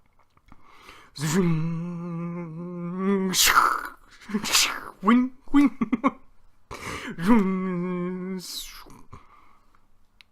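A voice imitates a Sith Lord slaying an innocent, with drawn-out moaning tones, sharp breathy hisses and gasps, and a few choppy vocal bursts, close and fairly loud.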